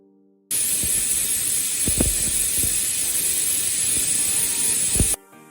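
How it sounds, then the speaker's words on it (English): A pressure cooker cooking mutton macaroni releases a loud, continuous hiss of steam for about five seconds, with faint rattling underneath, then cuts off abruptly. "Close the cooker lid and let it whistle for 3 times."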